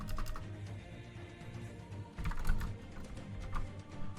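Rapid clicking of a computer keyboard being typed on during a Raid Shadow Legends gaming session, with bursts of keystrokes, close and moderately loud, no talking.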